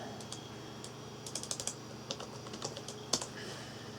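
Keys clacking on a Compaq LTE Elite 4/75C laptop keyboard as a password is typed, scattered quiet taps in short irregular bursts, close up.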